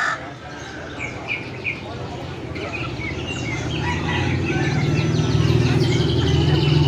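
Bantam chickens cluck and call in a noisy bird enclosure at an animal market in Yogyakarta, with other birds and faint voices mixed into a steady background din.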